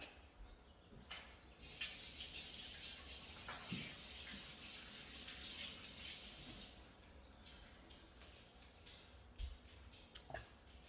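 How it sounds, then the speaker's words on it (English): A kitchen tap runs steadily while hands are washed beneath it in a home kitchen during pork shoulder prep, a quiet continuous water rush with faint splashes and clatters. "let me wash my hands real quick and I will be right back"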